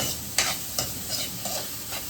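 Garlic fried rice gets stirred in a pan, with a few crisp spatula scrapes and clicks over a soft background sizzle. Close and fairly quiet, with no talking.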